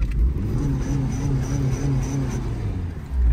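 The small electric motor of a remote-control Pontiac Grand Am toy car whirs steadily up close, with a rising and falling pulsing whine throughout.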